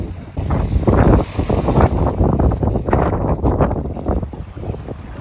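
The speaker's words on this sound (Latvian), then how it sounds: "Ir vējš, ok?" Gusting wind buffets a microphone outdoors by the water on a breezy day, a loud, continuous low rumble with fluctuating bursts across the whole stretch, water and boat sounds faintly mixed in.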